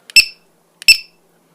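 A Li-Po battery checker's alarm buzzer gives two short, shrill electronic beeps, each preceded by a tiny click, spaced under a second apart in an otherwise silent room.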